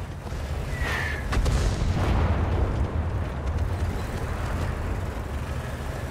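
Booming artillery fire rumbles through a World of Tanks battle, with low, heavy blasts and a continuous roar of engine and battle noise, loud and sustained, plus a brief whistling tone.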